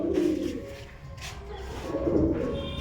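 Pigeons, including a red-and-white bird with white eyes, give low, throaty coos close by. Two rounds of cooing are heard, separated by a short pause, over faint background noise.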